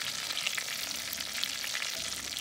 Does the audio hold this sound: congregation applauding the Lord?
no